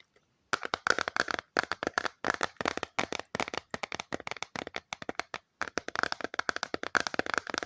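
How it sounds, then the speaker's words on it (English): Quick, uneven fingertip taps on a CD, clicking sharply and close by, a steady flurry after a brief silence. "So I think for my experiment, you can only really tap on CDs"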